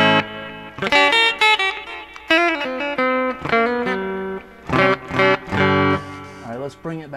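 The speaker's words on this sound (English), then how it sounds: "Bring it back in the middle where we have echo and chorus both." Electric guitar played on the middle setting with both pickups through a Tom Scholz Rockman, echo and chorus engaged: a run of loud, sustained chords and single notes with shimmering, repeating tails and brief pauses between phrases.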